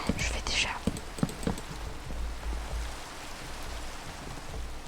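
Steady rain hisses from the video game Minecraft as a soft, continuous wash beneath whispered French ASMR speech and small clicking sounds.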